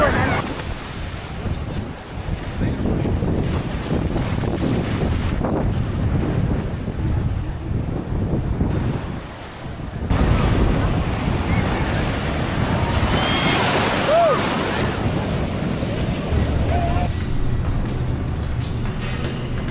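Waves wash in at Rock Beach in Pondicherry, a continuous surf roar mixed with heavy wind buffeting on the microphone, a brief lull midway, with people chatting nearby over it.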